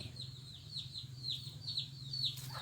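A chicken recovering from a gunshot wound clucks in a steady series of soft, repeated calls, close by and fairly quiet over a low background hum.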